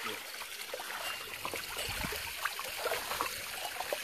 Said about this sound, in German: Also hier ist das Loch und dann kommt das Wasser, fließt das Wasser runter.